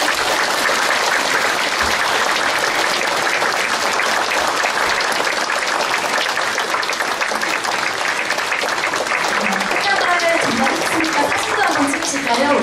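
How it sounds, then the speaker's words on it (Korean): Sustained applause from a sizable crowd at a county governor's inauguration ceremony in Uiryeong, South Korea, fills the whole stretch, steady and dense, with a voice briefly speaking over it near the end. "여러분 박수 부탁드립니다"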